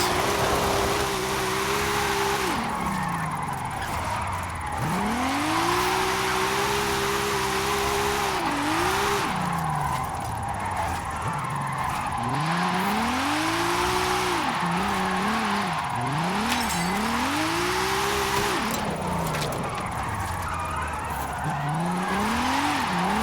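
A 1983 Volvo 242 Turbo Evolution with an all-wheel-drive drift tune in a racing video game, its turbo engine revving up and down through the gears in repeated sweeping pulls while tires squeal and skid continuously, loud and close throughout.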